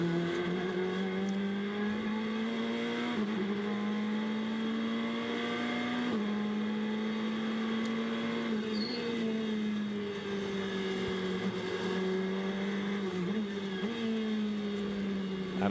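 A GT race car accelerates out of a corner at the Nurburgring during GT World Challenge Europe running. The engine note is loud and sustained and climbs in pitch through the gears, with brief dips at the shifts.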